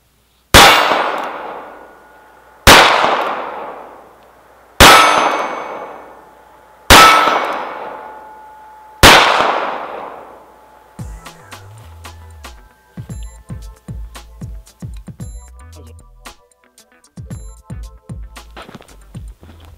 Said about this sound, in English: I'm just going to shoot it one-handed.